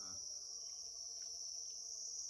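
Crickets on a cricket-breeding farm keep up a steady, dense, high-pitched trill that fills the whole stretch without a break.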